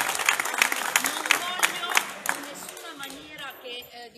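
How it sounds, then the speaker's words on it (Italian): A crowd at an outdoor protest in San Severo against a composting plant applauds, with steady clapping that thins and fades toward the end as voices carry on beneath it. "fare un grande applauso per questo atto"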